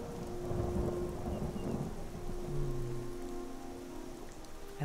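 Steady rain and rolling thunder from a weather mod for the Skyrim video game, a continuous close wash of rainfall with low rumbles swelling throughout, no voices.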